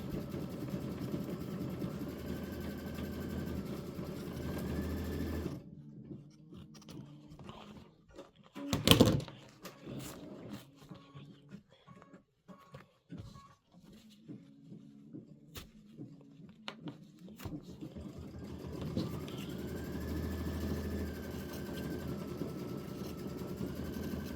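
A sewing-style embroidery machine stitches Christmas poinsettia and leaf designs, its steady mechanical hum running near and continuous, dropping quieter mid-stretch with small clicks and a sharp knock before the full whirring returns.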